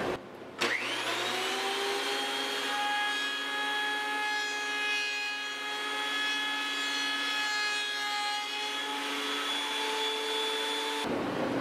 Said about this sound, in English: So next I'll run it through the planer.